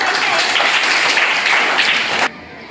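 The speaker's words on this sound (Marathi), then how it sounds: "अरे वा, याच्यासाठी टाळ्या वाजवायच्या आहेत." A school quiz audience at Saraswati Secondary School in Sayne breaks into steady, dense clapping that holds loud for about two seconds, then cuts off abruptly into quiet room tone.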